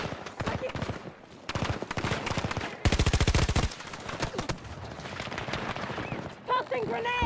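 Rapid bursts of gunfire in the Battlefield 2042 shooter game, with short spaced shots and a dense automatic burst in the middle, close and loud, while someone talks over parts of it.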